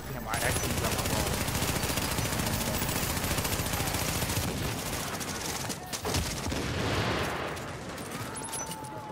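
Dense, continuous gunfire in The Division's Dark Zone, rapid automatic bursts overlapping almost without pause at close range, with a few heavier single shots and talk mixed in.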